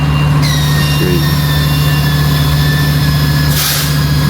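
A tractor-trailer truck's heavy diesel engine idles steadily and loudly nearby as it backs into a parking lot, with a constant low drone, a high whine running over it, and a short hiss of air near the end.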